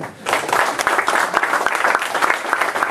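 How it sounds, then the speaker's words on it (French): An audience at an evening tech talk on JVM tools gives a short burst of dense, close applause, many hands clapping at once with a steady, loud texture throughout. "Et maintenant, on applaudit encore"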